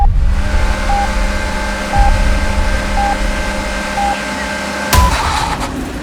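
A Tata Altroz Racer hatchback sits at the start of a wet-weather hill run, its engine droning steadily and loud up close. Evenly spaced electronic beeps sound over it, and a sharp thump comes near the end.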